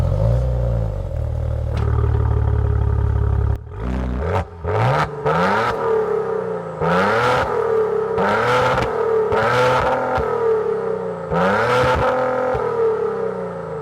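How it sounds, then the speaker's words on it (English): The V6 engine of a 2014 Maserati Ghibli Q4 idles with a low rumble, then revs repeatedly while driving, each sharp throttle blip rising and falling in a series of roughly eight loud bursts. "let's have a listen to this V6, take this car out for a drive"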